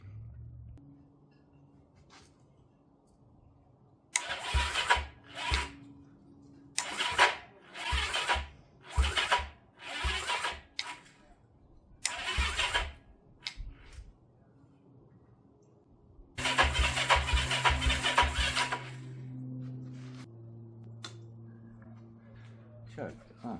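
A 1971 Honda CB350 Scrambler cafe racer motorcycle cranks over in repeated bursts of starter churning, then catches briefly and runs rough for a couple of seconds before idling low; people talk between attempts.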